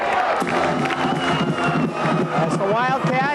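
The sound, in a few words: football crowd cheering on its feet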